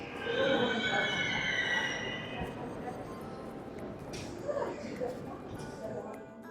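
A metro train at a Paris metro station, with a high wheel squeal fading early over a steady rolling rumble and station noise, and a voice speaking throughout.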